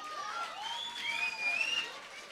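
Faint applause from a crowd, a soft continuous patter with some higher whistly tones on top, heard from a distance.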